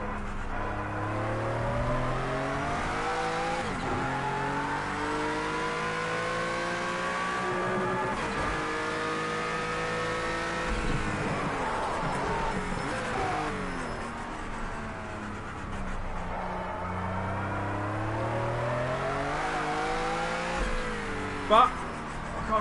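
Race car engine in Project Cars 2 revving up and down through gear changes, a loud, continuous, rising and falling whine with brief tire noise and no talk.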